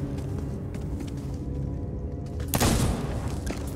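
Gunfire in the pirate video game Sea of Thieves: a single sharp, loud shot bursts out late over a low rumbling game background.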